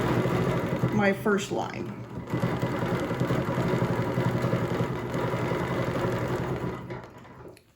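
A sewing machine runs steadily while stitching a quilted circle with a ruler, a continuous mechanical whir under a person talking throughout.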